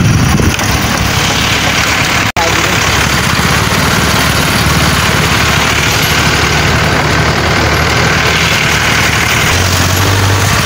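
A vehicle engine runs loud and steady during a rural ride at dusk, a constant low drone with wind rush and one brief dropout, with no talk.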